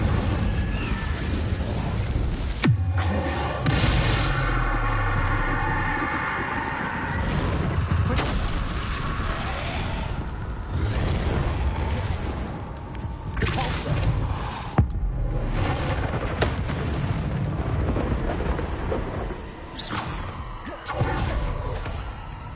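A fire spell cast in the Hogwarts Legacy video game bursts with a whooshing blast, followed by dense crackling, booming game effects and impacts that run loud throughout.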